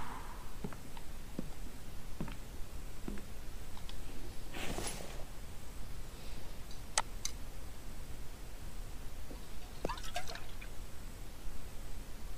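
Water drips and trickles with a soft pour inside The Infected survival video game, a few faint irregular drops and splashes over a quiet hiss, no voices.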